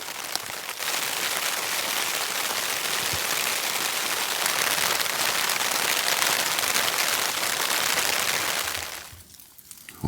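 Rain drumming steadily on the fabric of a very small tent in winter, a dense, loud patter heard from inside for about nine seconds before easing off near the end.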